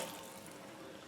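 Water pours steadily into a mixing bowl of dog-treat dough made with softened margarine and Scottish oats, a soft, even, faint splashing stream heard alone for about a second.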